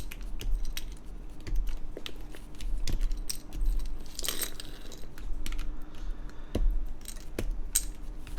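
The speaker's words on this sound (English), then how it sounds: "let's do this thing where I take off the keycaps like a savage" Keycaps being pulled off an NK Classic TKL mechanical keyboard by hand: a quiet, irregular series of sharp plastic clicks and snaps, close and alone, with soft handling rustle between pops.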